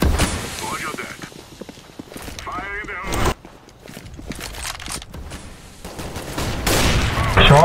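Gunfire rattles in Counter-Strike: Global Offensive as rapid bursts and single shots, with voices talking over the game audio throughout.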